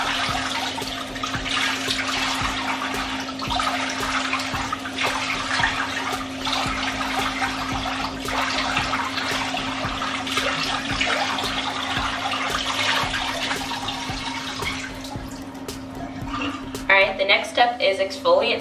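Steady running tap water splashing while skincare product is rinsed off a face, a continuous hiss lasting throughout, with a constant low hum underneath and a few clinks and shifting splashes near the end.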